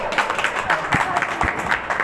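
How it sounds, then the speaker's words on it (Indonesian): A women's audience at an Islamic religious lecture claps briefly, a loose patter of hands under a busy room with voices mixed in. "Nih, tepuk tangan, Bu."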